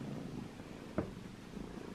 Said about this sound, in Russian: Прям сходка котом.